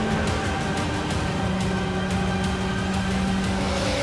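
Porsche 919 Hybrid race car lapping a track, its engine a loud, continuous high-pitched drone with steady tonal whine, close and constant throughout with no talk.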